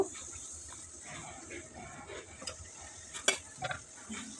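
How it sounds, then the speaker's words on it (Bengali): Teasel gourd, ridge gourd and brinjal stirred in a frying pan for a shrimp curry, giving a soft, steady sizzle with occasional scraping and clinks of a utensil against the pan. "এখন আমি সবজিগুলো দিয়ে দেব এখানে কাঁকরোল দিয়েছি ধন্দল দিয়েছি একটা বেগুন দিয়েছি"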